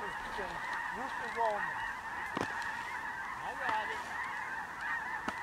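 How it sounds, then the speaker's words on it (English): A huge flock of snow geese passes overhead in North Dakota, a dense continuous chorus of honking calls at a distance with sharper nearer honks standing out. "There's probably, God, I don't know, tens of thousands of snow geese above me right here"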